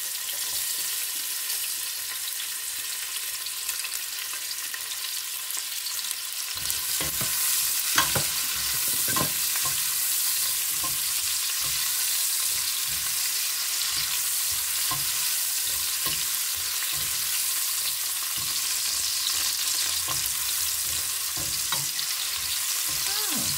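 Garlic and onion sauté in a pan for an adobong pusit. A quieter sizzle jumps to a loud, bright fry partway through, followed by steady sizzling with repeated clicks and scrapes of stirring.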